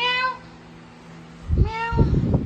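A pet cat gives two clear, close meows, the first rising and falling, the second following after a short pause with some rustling and handling noise around it.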